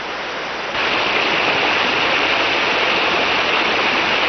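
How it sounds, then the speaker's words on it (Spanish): A waterfall in a rugged Andean rainforest, swollen by rain, pours from a great height over rocks, a dense, steady roar that swells up after a quieter opening and then holds loud and unbroken. "Esta es una tierra de hermosas cataratas y cascadas."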